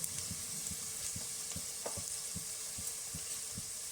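Turmeric, garam masala and Agri masala stirred into a pan for mutton curry, a low sizzling hiss under a regular rhythm of soft spoon knocks and scrapes, quiet and close with no talking.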